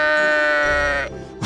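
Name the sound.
sheep bleating on a mountain trail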